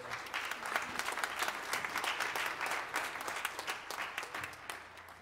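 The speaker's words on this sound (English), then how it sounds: "Let's give them another round of applause." A church congregation applauds young people and scouts who led morning worship, with dense, sustained clapping from a full room at fairly low level and little else heard.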